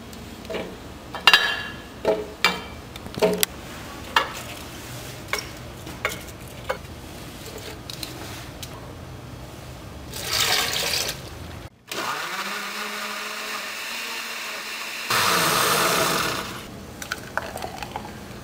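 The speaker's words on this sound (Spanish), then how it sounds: "Vamos a licuar los ingredientes por varios minutos." A kitchen blender whirs through tomato, basil, celery and water, with a loud steady motor run that stops and restarts after some clinks and bumps at the start, and no talking.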